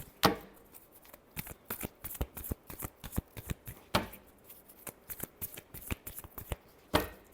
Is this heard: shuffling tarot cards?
yes